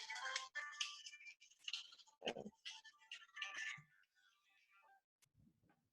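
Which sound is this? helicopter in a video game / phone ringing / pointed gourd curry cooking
phone ringing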